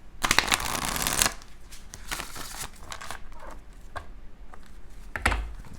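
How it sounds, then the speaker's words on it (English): Deck of playing cards being shuffled up close, a sharp riffle burst at the start followed by softer rustling, snapping and flicking of cards, with no talking. "Quick shuffle, hello."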